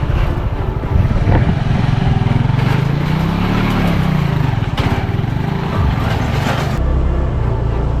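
Honda motorcycles ride a rocky, muddy, winding off-road trail, engines loud and close, revving and labouring unevenly over rough ground with rattles and bumps throughout.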